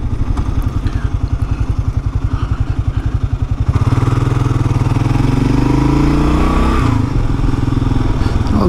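A Kawasaki KLR-650 motorcycle engine runs loud and close, with a steady rhythmic idle thump that rises into a revving surge partway through, and no talking.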